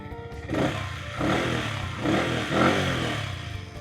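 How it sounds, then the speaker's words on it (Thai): Stock-exhaust Yamaha MT15 motorcycle from 2018, 42,000 km on the clock, idling steadily after starting, with a few soft throttle blips swelling the engine note at a close, moderate level. "เรามาฟังเสียงท่อเดิมกันหน่อยดีกว่านะครับผม อ่า สตาร์ทติดทีเดียวรู้เรื่องเลยครับผม"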